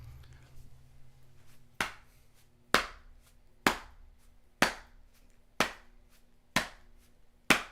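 Crowd at a concert clapping in unison, sharp claps landing in an even steady rhythm roughly once a second, loud and close, with no voices over them.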